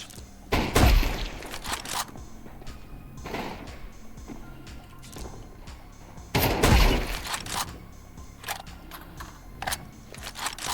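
Gunfire in Counter-Strike 2 comes as loud, close bursts, with two heavy volleys and scattered single shots between quieter stretches.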